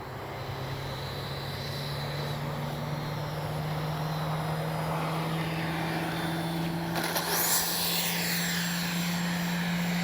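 Arrows 64mm EPO Marlin RC jet doing touch-and-goes, a steady whining ducted-fan drone held at even loudness throughout, with a faint rise in hiss near the end as it passes.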